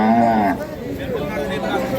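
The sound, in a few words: female calf at cattle market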